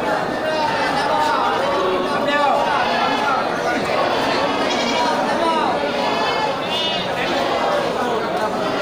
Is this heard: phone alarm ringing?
no